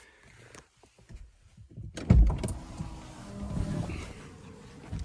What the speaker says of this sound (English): It does have the self-deploying side steps.